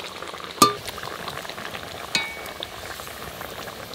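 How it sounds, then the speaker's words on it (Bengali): Lightly fried fish going into a pan for a mustard and chilli fish curry, giving two sharp sizzling bursts over a faint, steady crackle of hot oil, with no talk. "এবার দিয়ে দেব হালকা ভেজে রাখা মাছগুলো।"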